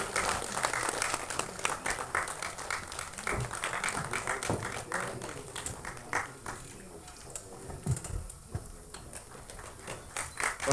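A crowd at an album song screening festival applauds steadily for about ten seconds, a dense wash of many hands clapping that rises and dips, with a few voices faintly mixed in.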